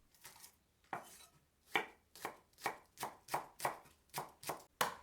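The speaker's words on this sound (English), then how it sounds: "Mince 1 onion," Knife chopping through onion and spring onion on a board, about ten crisp separate strokes at a steady, quickening rhythm, close and clear with no talk.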